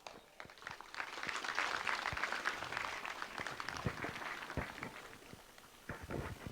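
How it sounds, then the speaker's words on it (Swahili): Audience applause at a gathering right after a preacher's closing prayer: sustained, dense clapping that holds steady for several seconds, with a few sharper individual claps standing out near the end. "Hebu tumpe makofi tena kwa neno jema na kutubariki ambalo ametupa"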